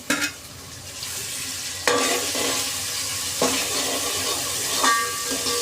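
Onion and tomato frying in a pan while being stirred for a Bhandari-style mutton curry, a steady sizzle with several scraping stirs of a spoon against the pan, close and alone.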